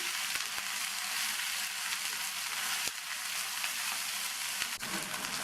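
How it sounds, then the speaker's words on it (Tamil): Okra sautéing in a pan with turmeric and salt gives a steady, close sizzle of frying that runs the whole time, broken by a few faint stirring taps. "வெண்டைக்காய்க்கு தேவையான அளவு உப்பையும் சேர்த்து ஒரு 2 நிமிஷத்துக்கு நல்லா வதக்கி விட்டுக்கணும்"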